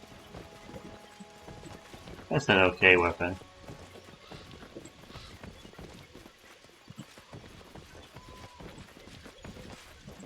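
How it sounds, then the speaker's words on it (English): A horse whinnies loudly amid a brief burst of hoofbeats in the video game Pathfinder: Kingmaker, with someone talking over a busy game soundscape throughout. "Just that one horse to fight."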